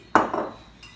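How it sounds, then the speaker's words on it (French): A spoon clinks against a glass while stirring a drink sweetened with honey, one sharp bright strike followed by a short ringing scrape, then a faint second touch, close up with no talking. "Ok, je touille"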